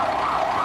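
An ambulance siren wails loud and continuous along Madrid's Alfonso XII street, which is jammed with traffic, with a steady rising-and-falling tone filling the short moment.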